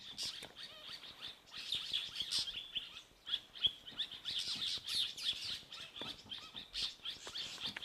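Fork-tailed drongos mob a spotted eagle owl on an African safari, giving rapid, high, scratchy chirps and squawks in irregular bursts. The calls are fairly close but quiet, with no talk over them.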